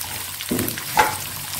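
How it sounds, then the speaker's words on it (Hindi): Cabbage and capsicum fry in a pan with sauce for chicken and vegetable macaroni: a brief, steady sizzle with one short stirring bump partway through. "इसको थोड़ा फ्राई करें।"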